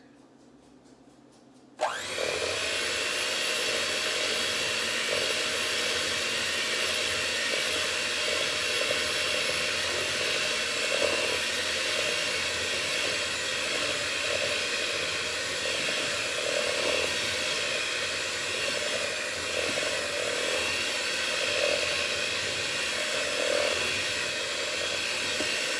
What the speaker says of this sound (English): And I'm going to give it a whisk.